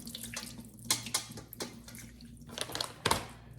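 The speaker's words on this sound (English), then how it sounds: "I just want to give it a good rinse. Just rinse all that stuff off of it." Raw shrimp rinsed under a running tap in a kitchen sink, a close, continuous gush of water broken by irregular splashes and clatters as the shrimp are moved about in the stream.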